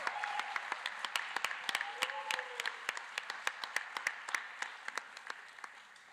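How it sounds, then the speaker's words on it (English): A small audience applauds at a live Arangetram dance debut, scattered claps rising into steady clapping, moderately near and sustained for several seconds. "I just like a big round of applause for all of them"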